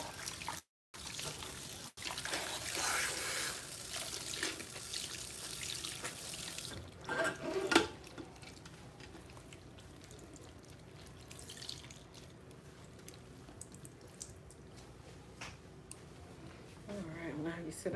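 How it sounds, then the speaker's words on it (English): Water runs steadily from a tap through hair during a rinse, a continuous splashing hiss with occasional drips and brief speech in the background. "I'm just going to allow the water to run through her hair"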